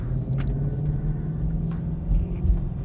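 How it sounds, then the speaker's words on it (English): Ford Shelby Mustang GT500 warming its tires before a drag race, heard as a steady, loud low engine rumble that holds throughout with slight surges, no talking over it. "Oh, he's gonna warm up the tires."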